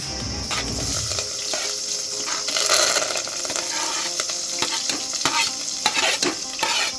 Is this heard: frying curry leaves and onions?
yes